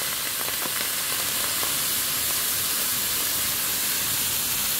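Steady loud hiss and sizzle as milk is poured into a hot pan of jaggery and semolina, continuous with faint clicks and no talking.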